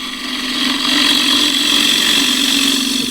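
Camphor laurel being turned on a lathe with a long-beveled gouge, giving a steady, loud whirring hum with a broad scraping hiss throughout, swelling slightly after the first half-second.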